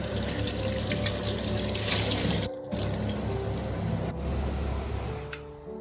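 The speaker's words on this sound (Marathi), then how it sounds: "राहिलेली जी भांडी आहे ज्याला जास्त घासणं गरज नाही आहे ते मी बाजूला घासून म्हणजे हलकं धुवून ठेवून देते" Running tap water splashes continuously while dishes are rinsed, with brief pauses and a light clatter of utensils close by.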